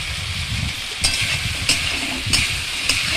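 Stirring chili sauce, soy sauce, tomato sauce, sugar and salt in a sizzling pan, a close steady fry hiss with rhythmic scraping strokes of a spoon about every half second.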